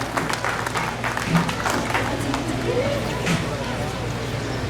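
A crowd claps steadily at a ceremony welcoming a new Ixkik Uk'ux K'iche' queen, sustained applause with a murmur of voices and a loudspeaker announcement over it.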